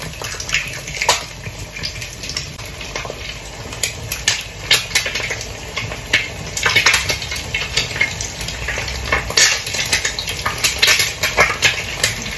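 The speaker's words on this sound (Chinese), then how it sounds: "现在油已经热的差不多了，这时候呢，我们就将做这个煎蛋" Eggs fry in hot oil in a home kitchen pan, giving a steady, fairly loud crackling sizzle with frequent sharp pops and spatters throughout, with no talk over it.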